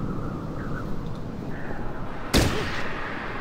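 A single loud gunshot from the turn-based game Fallout Tactics cracks out sharply over a steady low background rumble, standing alone with no talk around it.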